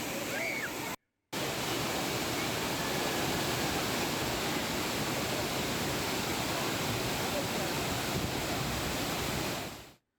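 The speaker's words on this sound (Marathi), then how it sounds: "सिंधुदुर्गाच्या आंबोलीमधलेही धबधबे खळाळून वाहायला लागलेत" Monsoon waterfalls gush at Amboli in Sindhudurg, a dense, steady roar of falling water with a brief cut near the start, no voices heard.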